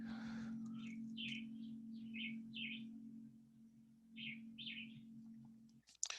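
A vireo repeats short clipped whistled phrases of its whip-tom-kelly song in bursts, fairly clear over a low steady hum and otherwise quiet background.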